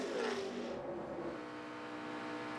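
ARCA stock cars racing at Talladega in 2014 at close to 190 mph, a steady loud engine roar with a pitch sweep early on, sustained throughout without voices.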